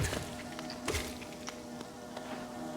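Swarming bees buzz in the Hollow Knight video game, a continuous droning hum with a few sharp game effect hits layered on top, fairly close and steady throughout.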